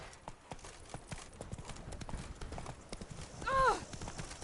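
Roach the horse in Witcher 3 trots along with steady, close clip-clop hoofbeats, a short neigh near the end, and a voice speaking faintly underneath.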